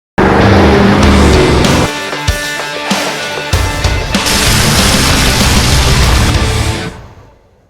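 A loud engine of a 2005–2014 S197 Ford Mustang roars and revs, dipping and surging again, then dies away at the end.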